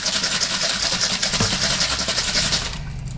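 A jar holding the last of the pasta sauce and a little water is shaken hard by hand for an Italian sausage spinach lasagna, a fast, even churning slosh up close that runs for about three seconds and then fades.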